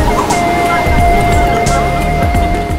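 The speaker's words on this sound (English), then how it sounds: "Back on the main island in Kuta, are wonderfully spacious white sandy beaches and the warm Indian Ocean, often with waves several meters high." Warm Indian Ocean surf rolling onto a wide white sandy beach at Kuta, Bali, a steady loud wash of waves with a faint tonal hum mixed in.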